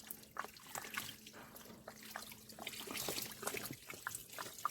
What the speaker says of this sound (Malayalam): ഇപ്പോൾ ഇതാ വെള്ളം പോയിക്കൊണ്ടിരിക്കുകയാണ്